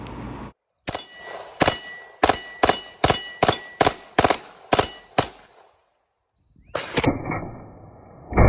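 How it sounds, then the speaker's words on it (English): A Beretta M93R burst-capable machine pistol firing at close range: about a dozen sharp cracks spaced in a steady rhythm, a pause, then a final quick burst with a lingering metallic ring. "if you short stroke the trigger very quickly when running the gun fast, it will actually 2-round burst"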